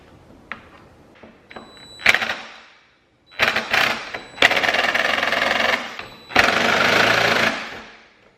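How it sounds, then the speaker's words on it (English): Small T15 Torx screws being backed out of a Dodge Challenger instrument cluster, giving a few light clicks and then several bursts of close, buzzing power-driver whirring with short pauses between them. "Now we're going to remove some more of those T15 screws."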